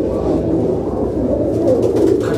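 Domestic pigeons kept for kabootar bazi coo in a low, steady murmur from close by, with faint fluttering and no talk over them.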